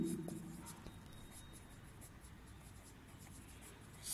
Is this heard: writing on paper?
yes